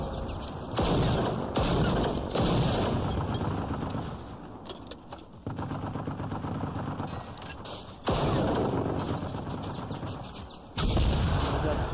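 Gunfire from robot turrets in the video game Generation Zero, loud repeated bursts and volleys that start and stop in several waves, with sharp blasts over a steady rumbling background.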